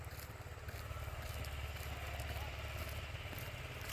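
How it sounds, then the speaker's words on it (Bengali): A tractor engine working in farm fields at dawn chugs steadily throughout with a low, continuous rumble and faint clatter, fairly close, with no talk over it. "ট্র্যাক্টরের আওয়াজ শুনতে পাচ্ছ বন্ধুরা?"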